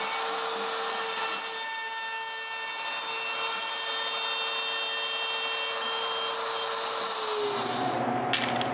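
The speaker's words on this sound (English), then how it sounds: "I use my X-carve to cut a mortise pattern onto thin pieces of plywood" An X-Carve CNC router cutting a mortise pattern into thin plywood makes a sustained high whine with a grinding, rasping edge, steady for about seven seconds before the pitch drops and the cut winds down.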